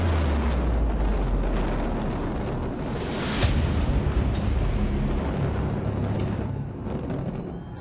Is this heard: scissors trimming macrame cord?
no